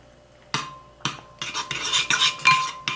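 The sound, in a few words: spoon scooping hair mask into a bowl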